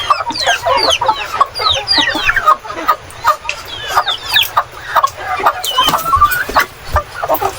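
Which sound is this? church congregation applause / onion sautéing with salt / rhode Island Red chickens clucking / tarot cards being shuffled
rhode Island Red chickens clucking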